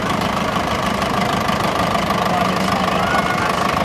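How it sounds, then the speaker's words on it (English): A 63-horsepower Minneapolis-Moline diesel tractor engine from 1955–1959 runs steadily at a low, knocking idle, loud and close, with a constant mechanical rumble throughout, at a steam fair. "63 horsepower diesel engine, and it's the largest in the Minneapolis range"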